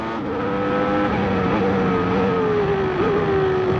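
A Formula 1 car at the 1993 Brazilian Grand Prix gives a loud, continuous engine howl whose pitch rises and falls, with a brief dip and recovery late on as it shifts gears.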